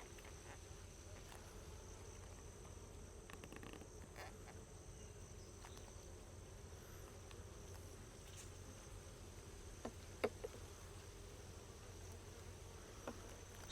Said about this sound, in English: You can actually hear it breaking that beeswax down below